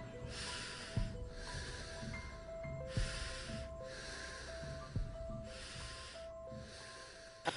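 Close, distorted heavy breathing pushed into a headset mic in Call of Duty voice chat, loud rasping blows in a steady repeating rhythm about every second and a half.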